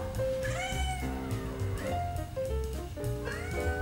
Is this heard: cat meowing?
yes